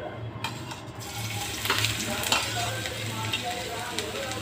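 Onion sizzles steadily in a little oil in a pan, a continuous close frying hiss with faint stirring scrapes and a low hum underneath, no voices.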